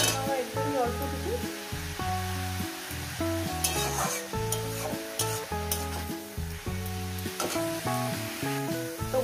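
Beto shak greens with shrimp sizzle steadily in a pan, a dense close frying crackle under continuous background music, occasional stirring scrapes, no speech.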